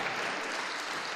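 A church congregation claps in a dense, even wash of applause that holds steady without a break.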